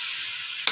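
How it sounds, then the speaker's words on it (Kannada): Finely chopped beetroot frying with green chillies in a small pan gives a steady close hiss, ending in a brief scrape as it is stirred. "ಮಿಕ್ಸ್ ಮಾಡೋಣ ಒಂದ್ಸರಿ ನೀಟಾಗಿ"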